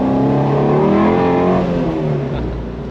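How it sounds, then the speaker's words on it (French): A Ford Shelby GT350 with a naturally aspirated 5.2-litre V8 revs loudly and close, rising in pitch then settling back as the engine note fades slightly. "la sonorité de cette voiture, c'est un truc de fou"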